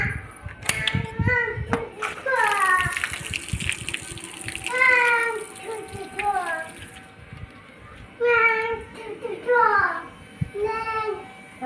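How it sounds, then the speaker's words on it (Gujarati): Drinking water gushing from a household tap into a container, a steady splashing flow heard under loud children's voices. "પાણી ભરી લઈએ"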